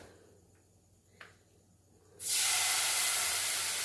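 A quiet stretch with a faint clink, then a sudden loud, sustained sizzling hiss as tamarind water hits a hot pan for ginger curry, continuing steadily to the end.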